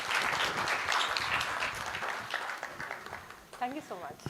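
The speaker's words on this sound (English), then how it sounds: "can we have a huge round of applause for her?" Audience at a product leaders' conference applauds steadily for about three seconds, then the clapping thins out and a voice begins speaking near the end.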